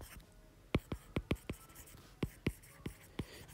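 Chalk or marker strokes on a classroom board as a vector is written out, a run of sharp scratchy taps in quick irregular bursts with brief pauses, close and fairly loud, with no talk over them.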